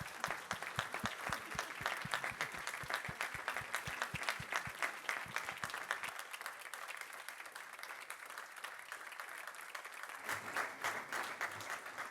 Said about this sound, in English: once more, a big applause, please